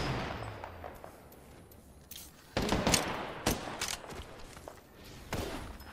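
Spitfire machine gun fire in Apex Legends: several sharp, loud bursts of automatic shots with short gaps between them, heard alone without talk.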